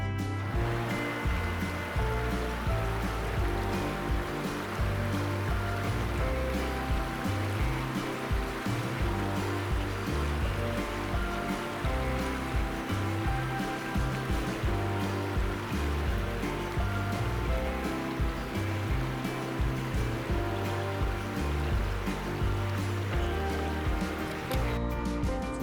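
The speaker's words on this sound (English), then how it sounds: "I came here specifically for the river" A river flowing past Mavreeso Campground in Colorado, a continuous loud rushing of water that stays steady throughout, with no talking.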